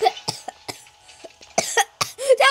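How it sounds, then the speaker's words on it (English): A person coughs several times in short sharp bursts, close and loud, with a brief throat-clearing sound and some breathy vocal noise between them. "I coughed!"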